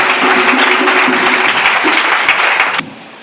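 Church congregation applauding loudly and continuously, a dense wash of clapping hands that cuts off abruptly near the end, leaving a faint room tone.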